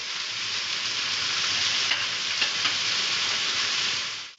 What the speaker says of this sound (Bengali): সেই ক্যাপসিকাম কুচানো দিয়ে দিলাম।